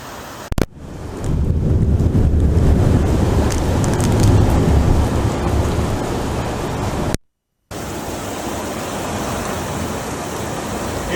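Heavy rain with possible hail from a thunderstorm, coming sideways in sheets onto a stealth camp. It makes a loud, steady broadband roar and hiss that stops briefly near the end and then resumes just as strongly.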